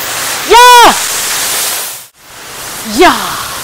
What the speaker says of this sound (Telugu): మనమైతే ఇప్పుడు సబ్బితం వాటర్ ఫాల్స్ అయితే వచ్చేసాం